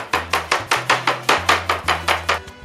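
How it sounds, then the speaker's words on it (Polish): Pork loin being lightly pounded with a meat mallet to tenderise it, about a dozen steady, evenly spaced thuds, close and clear with no talking. "Schab lekko rozbijamy."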